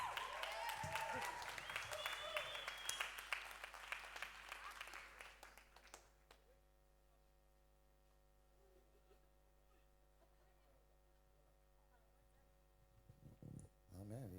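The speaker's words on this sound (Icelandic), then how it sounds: "Gefum honum gott klapp." Applause from a gathered audience at a church meeting, loud clapping for about six seconds that then dies away into quiet room tone, with faint voices near the end.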